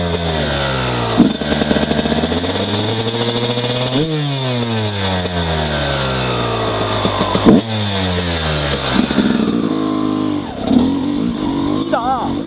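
A dirt bike engine fitted with a Keihin PWK Airstriker 36S carburetor and JD jetting kit, loud and close, revving up and falling back in repeated sharp throttle blips over a steady idle, with a voice briefly under it.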